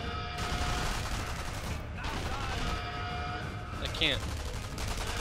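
Steady gunfire and battle noise in the World War II sniper game Sniper Elite V2, set in the Mittelwerk facility during co-op play, runs continuously at a dense level while players talk over it.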